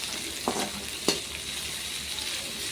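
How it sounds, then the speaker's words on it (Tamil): Ginger and green chillies frying in oil in a pan, giving a steady soft sizzle with two brief sharp crackles or stirring clacks, close and moderately quiet with no talking. "இப்போ நமக்கு இஞ்சி பச்சை மிளகாவை நல்லா வதக்கிக்கலாம்"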